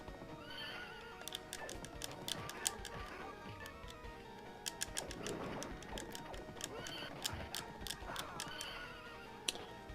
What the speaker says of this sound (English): Well, we spooked the horse.